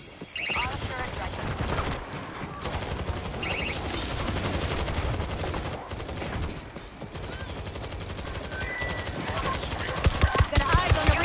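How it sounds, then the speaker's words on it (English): Automated turret fires on the undead in World War Z, a dense, continuous stream of rapid gunfire running throughout, loud and close, with other weapons and game effects mixed in and growing busier near the end. "Auto turret running."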